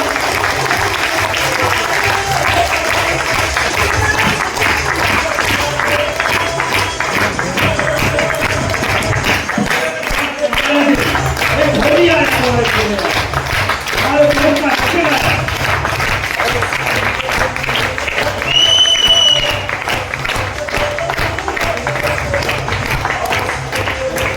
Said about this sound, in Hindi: आपके बीच में जोरदार तालियों के बीच म्यूजिक के साथ